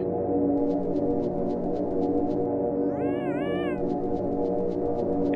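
A single cute cat meow from the kitty effect in the Yume Nikki video game, a short rising-and-falling call over a steady droning game soundtrack with faint rhythmic ticks.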